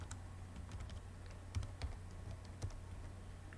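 Typing on a computer keyboard while writing C code: soft, irregular key clicks and taps in quick uneven runs with a few heavier strokes, faint and close, no talk.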